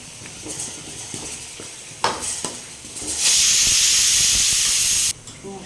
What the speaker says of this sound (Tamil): உருளைக்கிழங்கு ஆட் பண்ணிட்டு நல்லா மசாலா கூட ஃப்ரை பண்ணிக்கலாம்.